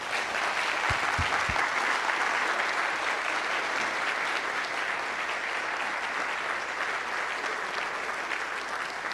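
Crowd at Santa Ana College Fall Convocation 2023 applauding, dense sustained clapping from a large audience filling the hall evenly throughout, with a couple of low thumps early on and no clear talk.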